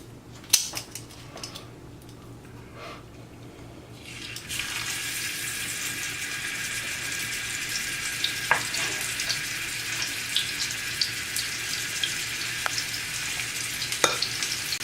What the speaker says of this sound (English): Put some olive oil into the skillet. And let's start browning our meat.